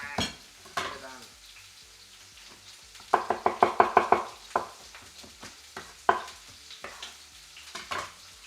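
Green peas and garlic sizzle in a pan while a metal utensil strikes and scrapes it in a quick burst of loud knocks, then a few more scattered clanks.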